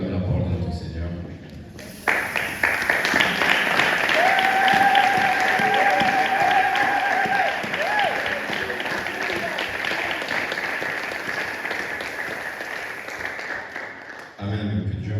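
A church congregation at a Sunday worship service stands and applauds, producing a loud, dense wall of clapping that holds steady for about twelve seconds before cutting off, with a sustained tone running over it.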